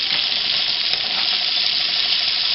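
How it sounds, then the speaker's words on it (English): Onions frying in grapeseed oil and butter give a steady, bright sizzle, loud and close, with no talking over it. "we're going to cook the onions in 2 tablespoons of grapeseed oil"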